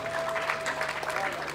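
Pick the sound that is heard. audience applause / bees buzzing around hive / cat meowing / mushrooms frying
audience applause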